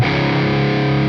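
An electric guitar played through a Friedman Little Sister amp with the gain turned up rings out as one sustained, distorted chord, loud and bright, with no voice over it.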